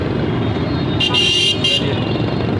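An auto rickshaw moves through busy street traffic near Liaquatabad No. 10 market in Karachi, with a loud, steady engine and road rumble close by and two short horn toots cutting through.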